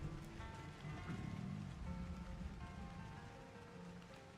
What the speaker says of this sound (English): Waiting for the rain to die down.